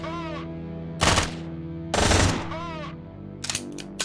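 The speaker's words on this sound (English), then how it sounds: "You've also got a pistol, so let's go with rapid fire" Rapid pistol fire from the sci-fi video game Quasimorph: two loud, dense bursts of shots about a second apart, followed by a few sharper shots near the end, over a steady humming game music bed.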